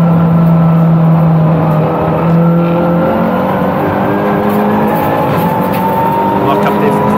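Toyota Gazoo Racing Corolla race cars run on a circuit alongside a Ford, engines droning loudly and continuously as cars pass, under steady commentary.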